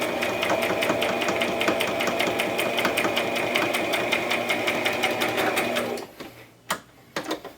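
A Brother sewing machine stitching at close range, with a fast, even mechanical chatter that runs steadily for about six seconds and then stops, followed by a few isolated clicks and knocks.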